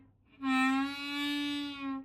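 A single sustained note from hole 2 on a G harmonica, held steadily for about a second and a half, close and fairly loud, with a slightly wavering, reedy tone and no talking.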